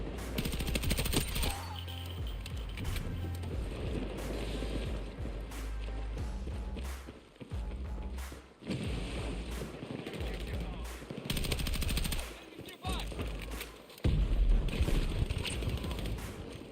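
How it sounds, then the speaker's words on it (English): Gunfire in the first-person shooter Battlefield 6: rapid automatic bursts and single cracks in close, dense volleys, broken by brief lulls, with game effects and occasional voices mixed in. "There's some shots over here."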